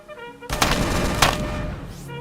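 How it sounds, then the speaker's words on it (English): A machine pistol with homing bullets fires in the game Starbound, one rapid burst of crisp shots that starts abruptly, peaks twice and trails off over about two seconds, loud and close. "I have this machine pistol with homing bullets"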